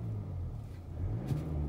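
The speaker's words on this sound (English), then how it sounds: "Give it a couple little revs so you can" Mercedes E220 convertible AMG Line engine idling and revving in short low rumbling swells, close by and steady, with no talk.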